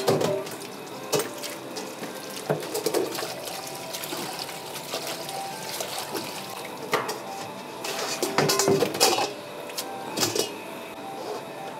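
Cold tap water runs and splashes as boiled soba noodles are rinsed in a sink at a Tokyo Edo-style soba restaurant, a continuous close trickle broken by clattering handling noises and brief splashes.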